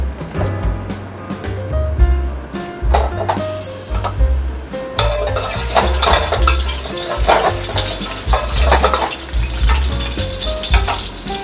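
Seafood chow mein stir-fries in oil in a wok, giving a loud, steady sizzle broken by scraping and clattering stirring strokes throughout.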